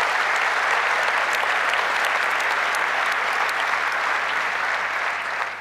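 A conference audience at a KubeCon keynote applauds for the event sponsors, dense sustained clapping from a large crowd that stays even throughout and tapers slightly at the end.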